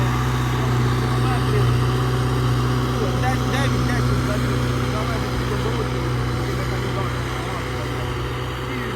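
A steady low tractor engine drone runs throughout while plowing a field, even and unbroken at a constant pace, with a voice talking over it.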